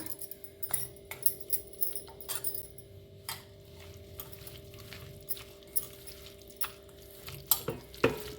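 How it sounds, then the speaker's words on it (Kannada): Grated coconut and juice being mixed by hand in a bowl produce soft, irregular wet clicks and scrapes against a faint steady hum, with no talking. "ಕಾಯಿ ತುರಿ, ರಸ ಎಲ್ಲದನ್ನು ಮಿಕ್ಸ್ ಮಾಡ್ಕೊಳ್ಳೋಣ"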